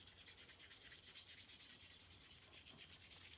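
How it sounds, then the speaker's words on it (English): A steady brushing scrub from cleaning parts of an AR-15 rifle continues evenly and close, with a soft rhythmic rasp and no talking. "So he's scrubbing"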